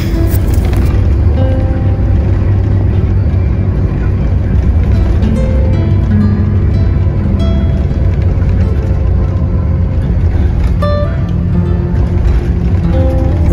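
Mercedes-Benz 1623 front-engine bus speeding along a toll road, a loud steady engine drone and road roar from inside the cabin, with faint talk in the background.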